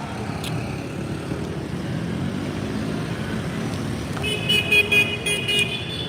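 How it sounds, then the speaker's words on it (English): Car horns honking in busy District 1 traffic in Ho Chi Minh City, a steady rumble of engines and motorbikes with a sharp horn blast near the start and several overlapping toots toward the end. "A lot of honking in District 1."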